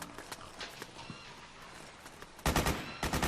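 Gunfire in Metal Gear Solid 4, scattered light distant shots and clatter at first, then a burst of loud, close rapid bursts near the end.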